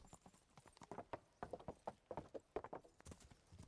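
Hooves clip-clop in a steady trotting rhythm as a horse is ridden in Kingdom Come: Deliverance, the beats quiet but distinct and recurring throughout.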